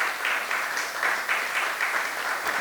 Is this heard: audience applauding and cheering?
yes